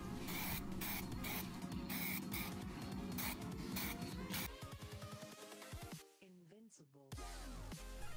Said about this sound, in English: applying some silver spray paint outside